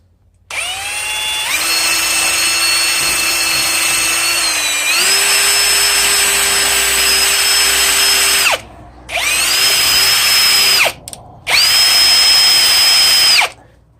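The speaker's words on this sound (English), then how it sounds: "I kind of like using the drill too" A power drill whirs steadily, shifting pitch mid-run, stopping briefly, then running in two more shorter bursts, close and loud.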